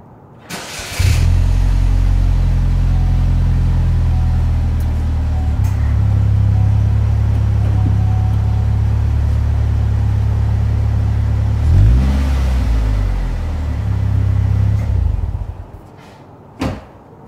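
A 2012 Chevy Malibu engine cranks and catches, then idles with a deep steady rumble, rising into a brief rev near the end before a door-like thump.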